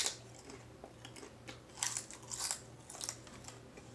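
Crisp, crunchy chewing of cheese-flavored snacks up close, with bursts of crunching bites recurring every half second or so over a low steady hum.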